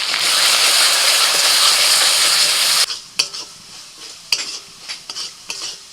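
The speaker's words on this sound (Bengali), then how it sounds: "এবার আদা বাটাটা দিয়ে মশলাটাকে খুব ভালো করে ভেজে নিতে হবে" Spice paste of garlic, ginger paste, Kashmiri and red chilli powder and turmeric fries in a pan with a loud, dense sizzle that drops away after a few seconds, followed by quieter frying and sharp spoon clicks from stirring.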